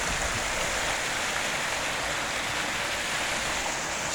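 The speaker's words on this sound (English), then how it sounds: "It's beautiful how the water just flows off here." Water pours steadily over concrete outdoors in Gordon, Pennsylvania, a loud, close, continuous rushing hiss with no pauses or voices.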